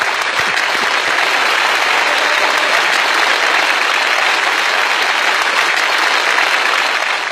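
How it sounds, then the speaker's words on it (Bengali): Studio audience applause welcoming a guest onto a Bengali television talk show, a dense, steady wash of clapping that holds at full loudness for the whole stretch with no voices over it. "তার জন্য করতালি"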